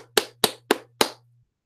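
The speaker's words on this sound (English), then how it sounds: "Round of applause for my boy." Four crisp, evenly spaced hand claps ring out close and loud as a short round of applause sound effect, over a low steady hum that cuts off after the last clap.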